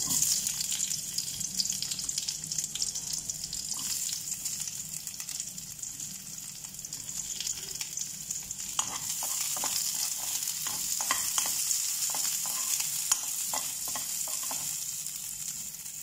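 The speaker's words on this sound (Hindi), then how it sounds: "तो अब इसमें हम डालेंगे ओनियन जो हमने रफली चॉप किया था" Roughly chopped onion sizzles in a kadai with whole spices such as cardamom and peppercorns, a steady frying hiss joined by a few stirring scrapes partway through, close up and with no voices.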